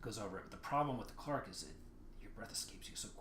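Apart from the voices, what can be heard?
No everyday noise stands out behind the speech.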